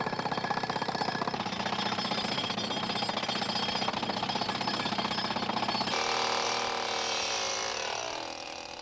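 A jackhammer pounds away digging holes at a dinosaur fossil dig, a loud, continuous rapid hammering that carries on steadily before easing off near the end.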